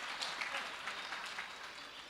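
A katha audience claps together in a dense, continuous patter of hands, fairly faint and even, with a voice faintly present underneath.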